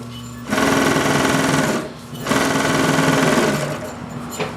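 A Singer 147-81 chainstitch sewing machine stitches a rolled hem in two fast, loud bursts of rapid, even rattling, with a short pause between them and a quieter hum before and after.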